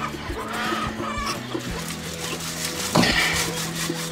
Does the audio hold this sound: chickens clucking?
yes